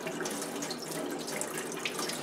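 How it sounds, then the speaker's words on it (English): Water from a kitchen faucet spray attachment running on high and pushing through an N95 respirator mask, a continuous close splashing rush with no talking. "It takes a little while for the water to start, pushing its way through the mask."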